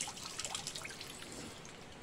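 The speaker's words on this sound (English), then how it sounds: "is wring out the dirty water" Dirty water trickles and drips from laundry wrung out by hand into a camp bucket, a steady close-up dribble with no talking.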